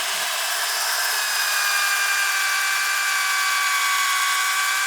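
Sandpaper presses against a spinning dried wooden bowl on a woodturning lathe, moving in toward the center. It makes a close, steady, bright hiss with a faint rising whine, and no voices are heard.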